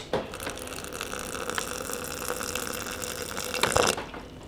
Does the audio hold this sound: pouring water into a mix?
yes